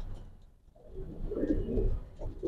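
A grizzle racing pigeon squab coos in soft, throaty bursts that swell midway and pulse again near the end, close by with no talking.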